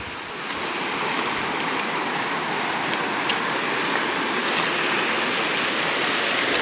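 A river flows near a waterfall on a bike trail, its steady broadband rushing close and constant, with no voices over it.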